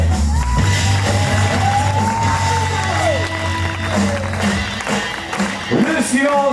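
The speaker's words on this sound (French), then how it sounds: "Je voudrais un séisme d'applaudissements pour Matisse." A prom audience shouts, whoops and cheers with scattered applause, a loud crowd swell that tapers off, with voices calling out over it.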